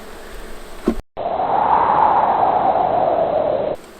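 Honeybees buzz around an opened hive on a cool spring day, a steady, close droning hum that holds for a few seconds after a brief break.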